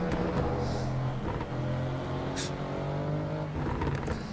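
An Audi RS6 race car in Assetto Corsa Evo drives hard with a steady engine drone and shifting revs, under excited talk from a player throughout.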